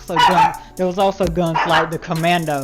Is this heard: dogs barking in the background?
yes